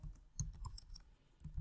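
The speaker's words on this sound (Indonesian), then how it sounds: "Text box ini misalkan kita ingin mengetik judul" Computer keyboard typing a title into a PowerPoint text box, a short burst of quick, close, soft key clicks with a brief pause before a few more taps.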